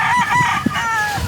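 A rooster gives one loud, close cock-a-doodle-doo crow with a clear, ringing call that stands alone without talk.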